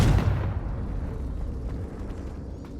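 A fiery Confringo spell blast in Hogwarts Legacy, a loud booming burst right at the start that decays into a lingering rumble.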